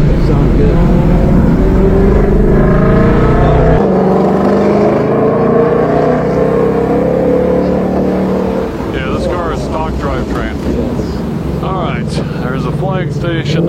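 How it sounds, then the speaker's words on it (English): A car with its factory OEM exhaust system drives slowly down a pit lane on cold tires, a steady loud engine drone and rumble throughout, with people talking over it in the second half. "Is that OEM exhaust system? It is, yeah. Sounds good."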